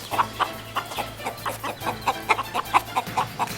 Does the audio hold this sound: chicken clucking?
yes